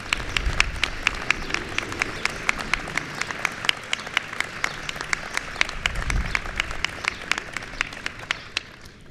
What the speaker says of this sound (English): let's give a round of applause for all the challenge winners who are here with us